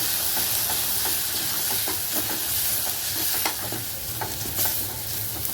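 Green chillies sizzle and hiss loudly in a pan as they are stirred, a dense continuous frying noise with scattered scraping taps of the spoon.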